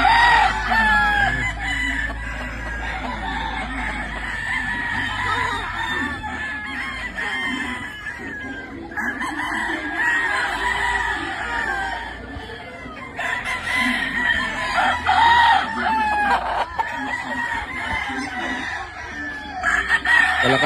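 Gamefowl roosters at the Spartan Game Farm crow repeatedly and overlap one another, some near and some farther off, with clucking hens in between. Occasional people talk in the background.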